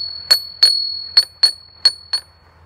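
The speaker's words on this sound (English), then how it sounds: "We'll ding the two little bell, the little bell." A small yard bell in a garden rings in six bright, sharp dings, each decaying quickly, spaced irregularly and heard close and clear against a quiet background.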